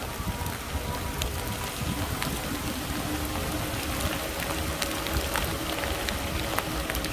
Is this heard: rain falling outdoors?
yes